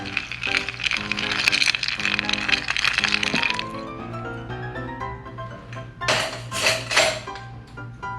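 Ice clinking and cracking in a glass as a martini cocktail is stirred, with bright rattling clatter in a dense opening burst, then softer scattered clinks and a few louder knocks near the end.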